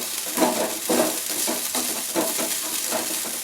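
Flattened rice for kanda poha gets stirred in a hot pan, a spatula scraping and tossing in a steady rhythm over a soft background sizzle.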